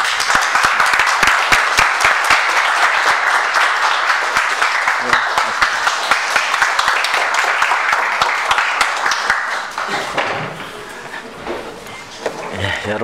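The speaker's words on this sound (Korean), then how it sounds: "큰 박수로 맞아주시기 바랍니다" Loud, sustained applause from a large crowd, dense steady clapping that carries on for over ten seconds before tapering slightly.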